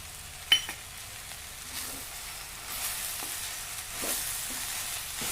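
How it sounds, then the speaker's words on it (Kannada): Veg sandwich filling fries in a pan with a soft steady sizzle, opening with a sharp utensil clink and followed by intermittent stirring scrapes that grow a little louder. "ಸ್ವಲ್ಪ ಇನ್ನು ಸ್ವಲ್ಪ ಹುರಿತೇನೆ ಹುರಿದು ತೋರಿಸ್ತೀನಿ ನೋಡಿ"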